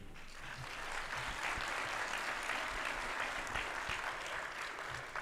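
An audience applauds community service awardees at a Martin Luther King Jr. birthday celebration, with dense, steady clapping that holds evenly throughout.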